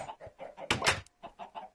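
Chickens cluck in a video game farm, a series of short rhythmic clucks with a louder squawking burst in the middle, moderately close and alone.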